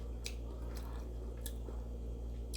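Someone chewing crunchy asparagus up close, with a few sharp crisp bites over a steady low background hum and no talking.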